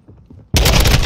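A single loud, close shotgun blast from the video game Call of Duty MW2 bursts in abruptly after a brief quiet lead-in.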